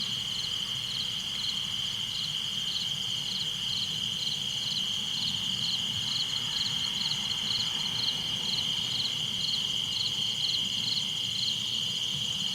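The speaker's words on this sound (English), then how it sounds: "I got crickets and other stuff at 5 in the afternoon" Steady, continuous cricket chirping at 5 in the afternoon fills the air, a dense high pulsing trill with other insect and night-creature calls beneath, no voices.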